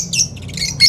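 A pet bird squawking at a pet shop, several sharp, loud, close squawks in quick bursts.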